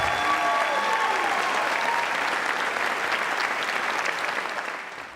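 A school staff convocation audience applauds, dense steady clapping from many hands that holds strong and then tapers off toward the end.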